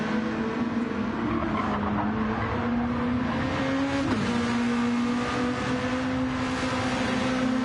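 Race cars lapping the Red Bull Ring in Austria in Gran Turismo 7 during a sim racing championship: a steady, loud engine drone with a pitch that rises and falls as cars work through the final corners, and no talk.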